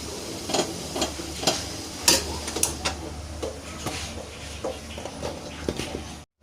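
Freshly steamed Jaffna puttu being stirred and fluffed while hot in a pot, a steady series of soft scraping, clinking strokes at a regular rhythm, close and alone.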